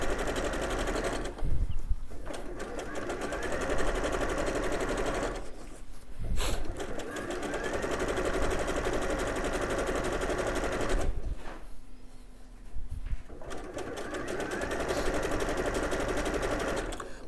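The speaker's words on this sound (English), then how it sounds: "placing this onto the sewing machine and again just sewing along that raw edge" A sewing machine whirs in rapid, steady stitching bursts along a quilt panel's raw edge, close and loud, pausing briefly a few times before starting up again.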